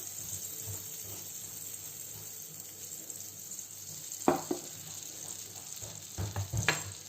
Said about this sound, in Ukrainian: обсмажувати я буду на маслі